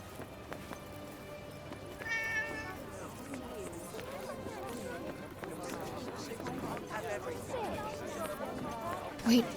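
A cat in the fantasy game Forspoken gives a short, high meow early on, heard over busy in-game ambience, footsteps and a possible voice in the background.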